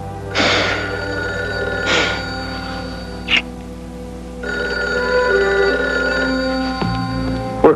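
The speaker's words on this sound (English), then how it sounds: "Work phone. Might be a problem." A work telephone rings with an electronic bell tone, repeated bursts close by with pauses between, in a scene from the 1970s-80s TV drama Man Undercover.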